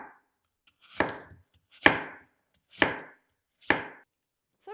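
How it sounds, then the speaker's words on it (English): A knife cuts through an apple onto a cutting board in four evenly spaced, crisp chopping thuds, close and clear against near silence. "Let me just go ahead and make a flat place so that it's easier to slice them."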